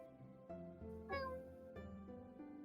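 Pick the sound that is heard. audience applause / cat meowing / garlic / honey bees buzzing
cat meowing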